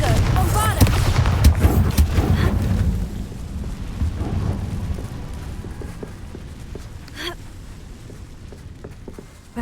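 Blasting spell explosions from Hogwarts Legacy boom out in a dense, rumbling burst at the start, then fade into a lower rolling din with scattered sharp cracks.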